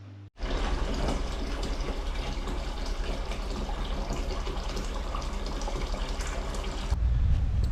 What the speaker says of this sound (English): Easiest way to do that is just dunking it in some hot water